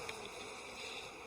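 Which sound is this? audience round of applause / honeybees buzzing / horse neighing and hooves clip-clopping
honeybees buzzing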